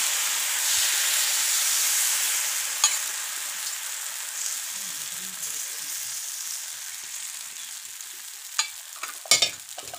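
Rice-flour ghavne batter cooks on a hot griddle over a wood fire, giving a steady close sizzle and hiss with a few sharp clinks and scrapes near the end.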